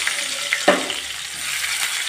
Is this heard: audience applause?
no